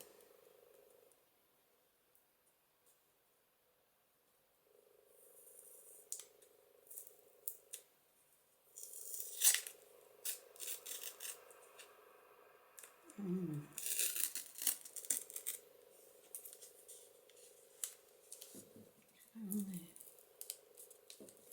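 Vellum paper is torn and cut in a quiet indoor craft setting, with crisp intermittent ripping and crinkling bursts over a faint steady hum, interspersed with small handling noises.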